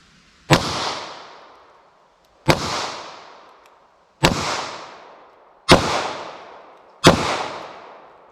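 Five loud, sharp shots from a Taurus 905 9mm revolver fired without moon clips, each a close crack with a decaying echo, spaced about one and a half seconds apart.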